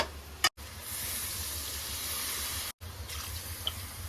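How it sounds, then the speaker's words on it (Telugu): Water runs in a steady, hissing stream with two brief breaks as three glasses of water are poured into a pot close by for chicken biryani. "3 గ్లాసులే పోయాలి"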